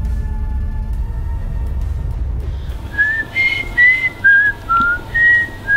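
After a few seconds of low room rumble, a person whistles the Mockingjay tune from The Hunger Games as a short run of clear, close notes with brief pauses between them.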